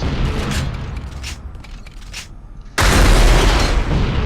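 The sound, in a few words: rocket launcher firing rockets, alternate fire, Unreal Tournament video game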